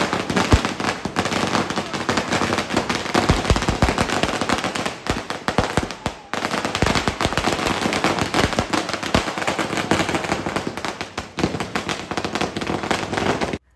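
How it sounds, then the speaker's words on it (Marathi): Firecrackers burst to welcome a Ganpati idol arriving at a housing society, a dense, loud run of rapid crackling pops with a brief lull near the middle before the barrage resumes. "खूप सारे छान फटाके वगैरे फोडून त्यांचं वेलकम केलं जात होतं इथे"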